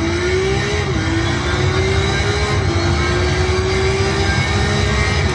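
A race car in the Project CARS racing game drives with a loud, steady engine drone whose pitch rises gradually and dips briefly at gear changes, continuous and close.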